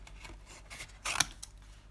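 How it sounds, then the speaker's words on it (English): Scissors snip around a stamped image during fussy cutting, a quiet, close crisp cut burst lasting about a quarter second amid faint background rustle, with no talking. "just fussy cutting that."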